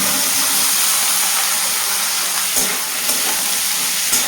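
Onion, potato and vegetable stalks fry in a pan with a loud, continuous hissing sizzle and a couple of brief scraping stirs.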